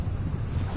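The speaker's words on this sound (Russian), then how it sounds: "но волны хлещут, море поет, песок летит" Sea waves rush and splash on a beach under strong wind buffeting the microphone, a steady, loud, low roar filling the whole moment with no voices.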